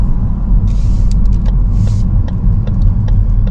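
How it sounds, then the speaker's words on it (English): Queued traffic of eight to ten backed-up cars idles nearby as a steady low engine rumble, with brief hisses and a few faint clicks and squeaks from vehicles over the continuous drone. "look at this traffic. We must have, like 8 or 10 cars backed up"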